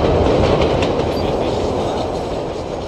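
In Splinter Cell: Blacklist, a train rides through the transit yards with a loud, continuous rumble and rattling wheel clatter, close and steady, with no voices over it.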